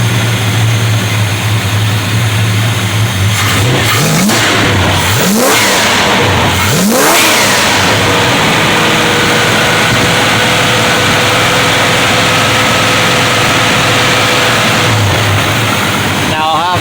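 A car engine with a freshly rebuilt Thermoquad carburetor idles fully warmed up, steady and close, with a few quick blips of the throttle early on that rise and fall before settling back to idle.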